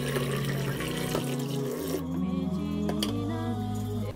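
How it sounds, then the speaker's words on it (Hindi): Dishes being washed by hand under a running kitchen tap in a home kitchen while chicken karahi cooks, a steady, close stream of water with clinks and shifts, no talking. "मैं साथ में क्लीन कर रही हूँ डिशेस, क्योंकि मेरे पास डिश वॉशर नहीं है"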